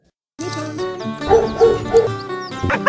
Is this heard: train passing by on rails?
no